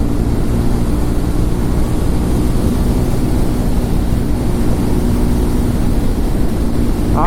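A Triumph Tracker 400 motorcycle engine at full throttle, holding a loud, steady, close droning roar throughout with no pauses.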